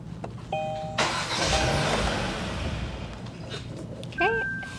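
A Kia car's engine turns over and runs with a rumbling mid-range hum for a few seconds, then cuts off, followed by chimes and brief tones close by.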